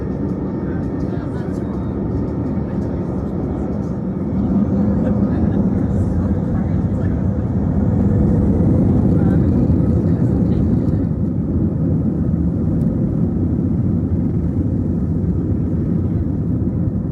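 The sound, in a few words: TAP Air Portugal Airbus A320-200 taking off from Lisbon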